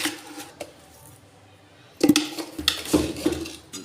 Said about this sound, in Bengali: এর মধ্যে একটু খেজুর গুড় দিয়ে দেব,